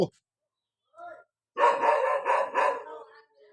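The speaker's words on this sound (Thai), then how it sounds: "อ้หมาเห่า โอ้หมาเห่า" A dog barks close by: first a short yip, then a pause, then a run of several loud barks in quick succession that trail off into quieter sounds.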